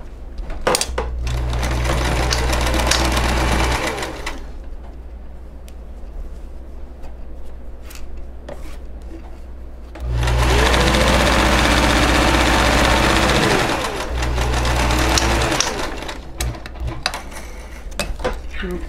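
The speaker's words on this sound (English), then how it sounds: "you're just gonna top stitch right along here" A sewing machine top stitches along a zipper pouch in two loud, close runs of buzzing motor hum, separated by a quieter pause with faint handling noise.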